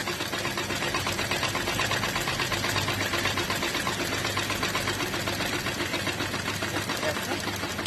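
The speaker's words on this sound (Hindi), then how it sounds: "इस तरह से खींचते हुए एक सिलाई लगा लेंगे।" A sewing machine stitches a garment neckline, a steady close whirring rattle of rapid needle strokes that runs without break, with someone talking over it.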